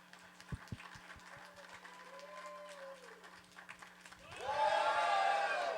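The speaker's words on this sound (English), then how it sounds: "All right, so laugh, clap, into going nuts." A seminar audience at a Phoenix stand-up comedy club sits mostly quiet through a few soft taps, then suddenly erupts on cue into loud laughter, clapping and cheering that holds to the end.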